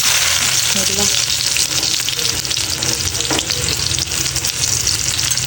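Sliced onions and green chillies hit hot oil for an okra bhaji, making a loud, dense, continuous crackling sizzle close up with no pauses.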